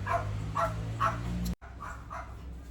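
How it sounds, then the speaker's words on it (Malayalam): A dog barks repeatedly in the background, five or so short yelping barks at an even pace, moderately distant, with a low steady hum beneath. "പട്ടി കുരയ്ക്കുന്നു."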